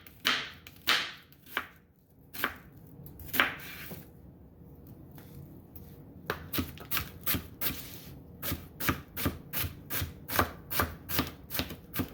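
Knife chopping onions on a board while making cast iron sloppy joes, with a few spaced cuts early, a quiet pause, then a fast steady run of crisp close chops.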